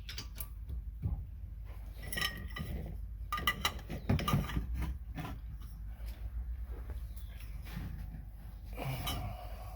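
Socket ratchet working loose a bolt on the rear brakes of a Ford Explorer, giving irregular clicks and metallic creaks close by with some clunks of handling and no speech.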